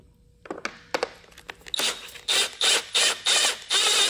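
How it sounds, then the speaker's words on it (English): A headlight height adjustment screw on a Toyota Corolla headlight assembly is backed out with a tool, heard as several light clicks followed by a series of short, close ratcheting bursts in an even rhythm. "I will go ahead and release this height adjustment screw."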